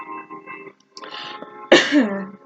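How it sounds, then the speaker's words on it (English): A single harsh, tickly cough bursts out after some quiet muffled sounds, close and fairly loud, then trails off. "I've got such a bad tickly cough right now."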